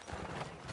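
Horse hooves clip-clopping at a steady walking rhythm, close and fairly loud over a dense game-like background in Red Dead Redemption 2.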